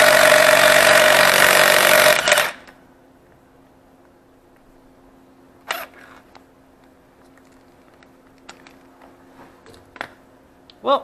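Impact driver set to 35 foot-pounds tightening a car wheel nut, a loud continuous hammering whir for about two seconds that stops abruptly, followed by quiet with a few faint clicks and knocks.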